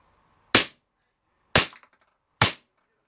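A CO2 Remington 1911 air pistol fires three sharp, loud cracks, each about a second apart, with quiet in between and a faint clatter after the second shot.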